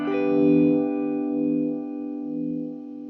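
A sustained instrument note is shaped by a vibe effect, its tone swelling and pulsing slowly in a gentle wavering throb as it fades over a few seconds, with no talk.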